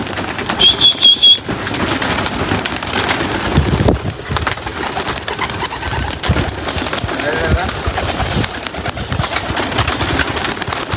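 Pigeons coo close by in a rooftop loft, with a few clear call notes at the start, then a low, steady burble continuing under some talking.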